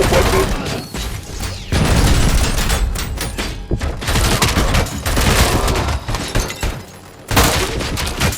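Loud, dense bursts of gunfire in the RoboCop: Rogue City video game, rapid volleys crashing almost without pause, broken by two short lulls before the shooting resumes.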